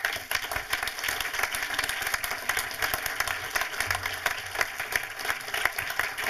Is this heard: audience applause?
yes